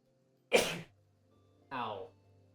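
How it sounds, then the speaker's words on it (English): A sudden loud sneeze, with a short vocal sound about a second later in an otherwise quiet room. "That sneeze kind of hurt."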